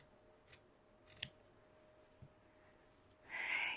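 Scissors cutting out paper pattern pieces, giving a few faint, quiet snips spaced apart over low room hiss, ending with a brighter sliding rasp of blades.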